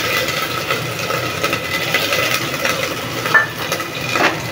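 Cumin and ginger frying in hot mustard oil in a pan, a steady close crackling sizzle with occasional scrapes and stirs of a utensil.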